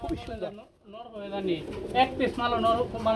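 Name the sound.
pigeons cooing at a pigeon seller's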